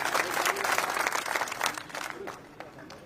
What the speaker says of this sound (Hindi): एक बार ताली बजा के आदेश करिएगा